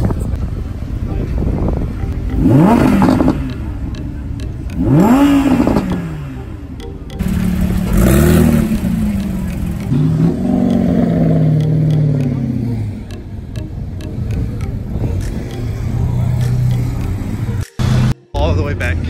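Cars, including a GT3, rev and drive away from a Cars and Coffee show at Fort Adams, with several engine passes rising and fading one after another over steady outdoor noise and occasional voices.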